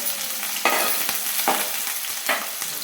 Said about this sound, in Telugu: కలుపుతూ ఉండాలి.